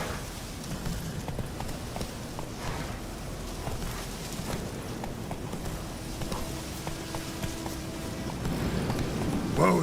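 Hooves of the horse Roach in the video game The Witcher 3, a rapid, steady clip-clop rhythm of galloping under ambient game sound, with a voice speaking briefly near the end.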